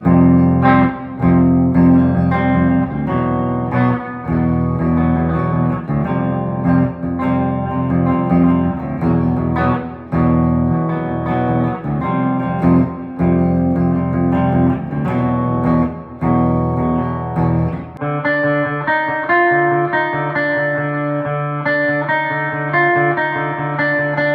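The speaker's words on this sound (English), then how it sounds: "this is the clean with a little bit of reverb and delay" Clean electric guitar, a Firefly FFVX Dime-style model, playing chords and single notes with reverb and delay trails, steady and close, shifting to a brighter sustained tone near the end.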